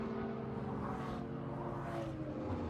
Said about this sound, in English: So nice to hear cars again.